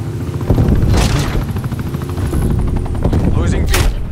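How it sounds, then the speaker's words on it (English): Enemy attack helicopter rotor noise with bursts of gunfire and explosions in the video game Call of Duty: Black Ops Cold War, loud and continuous, with game announcer voice lines over the battle. "Enemy attack helicopter above."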